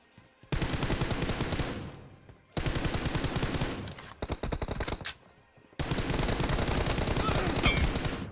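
Automatic gunfire from PUBG Mobile comes in three long, loud bursts of rapid shots separated by brief gaps, the last burst running steadily to the end.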